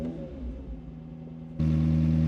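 A McLaren 750S Spider V8 idles with a low, steady rumble, then swells abruptly into a louder, fuller engine roar as the car pulls away, close and continuous.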